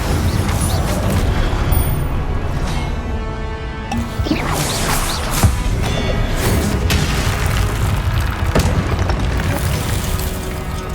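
Fire spell cast in Hogwarts Legacy, a loud booming burst with whooshing flame over a dense, continuous wash of game combat noise lasting the whole stretch.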